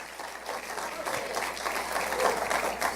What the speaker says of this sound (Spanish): Si tú le vas a dar ese aplauso a Dios, dáselo con más fuerza